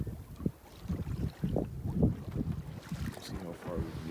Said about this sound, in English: Sailing south, downwind, got a northerly wind today.